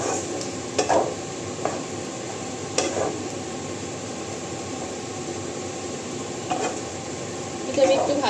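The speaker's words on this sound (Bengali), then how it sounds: "এটা আমি একটু ভাজা ভাজা করে একটু ঢাকা দিয়ে দেবো" Sliced radish frying in a pan with red chili powder gives a soft, steady sizzle, broken by a few sharp clinks from stirring, close by and fairly quiet.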